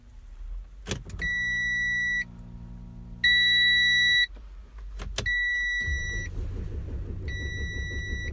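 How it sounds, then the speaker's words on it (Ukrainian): An Audi A6 3.0 TDI that starts poorly cranks slowly and at length on its starter, a steady mechanical drone broken by repeated loud electronic warning beeps, with a door or switch click and the engine finally catching to a rough idle. "А ну, як вона заведеться зараз."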